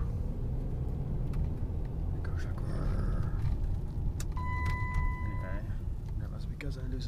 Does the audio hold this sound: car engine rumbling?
yes